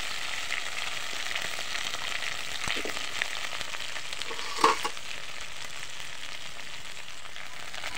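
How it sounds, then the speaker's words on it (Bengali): Okra fries in a pan with a steady, even sizzle that holds throughout, broken by a few soft stirring sounds and one brief clatter just past the middle. "আগে একটু ঢেঁড়সগুলো ভাজা ভাজা করে নেব।"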